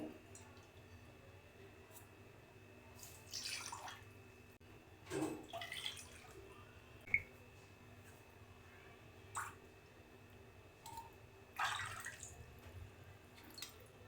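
Water is poured bowl by bowl into a heavy-bottomed pot for semolina papad, heard as several separate splashing pours with pauses between them over a quiet kitchen background.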